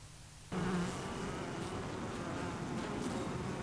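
Honey bees swarm and buzz densely at a beekeeper's hive, the hum starting abruptly and holding loud and steady up close with a few distinct tonal lines.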